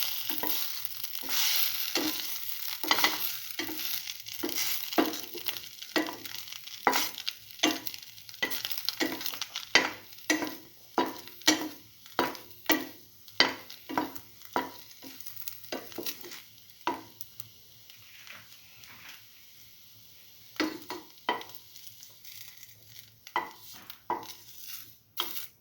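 Chili ginger garlic French toast fries in a pan with a steady close sizzle, broken by frequent sharp scraping and stirring clicks of a utensil against the pan throughout.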